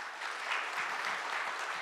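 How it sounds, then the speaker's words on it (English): Audience claps for the panelists at the end of a business panel on supply chain growth, a soft, steady patter of many hands heard at some distance. "big clap for all the panelists"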